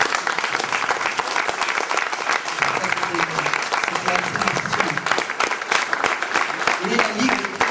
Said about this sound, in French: vous pouvez vous applaudir encore